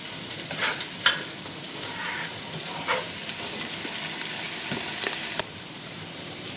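Butter melts and sizzles in a pan, with spices and shrimp added, a steady close frying hiss punctuated by a few light clinks and stirring scrapes, no voices.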